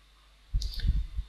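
A few computer mouse clicks sound close and crisp in a short cluster during a software installation, after a moment of near silence.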